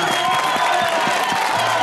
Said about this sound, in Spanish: los despedimos con un fuerte aplauso como se merecen